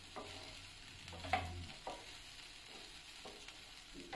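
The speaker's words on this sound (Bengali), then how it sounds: "নাড়াচাড়া করে সবজির সাথে মিশিয়ে নিচ্ছি" Soaked sabudana being stirred with vegetables in a pan for a Shivratri sabu polao, faint soft scrapes and light sizzling with a couple of small spoon knocks, quiet and close.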